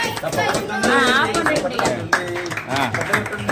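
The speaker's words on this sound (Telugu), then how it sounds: "చప్పట్లు కొట్టరే" Family guests clap in rhythm at a Telugu dhoti and saree ceremony, the claps mixed with lively singing and chanting voices throughout.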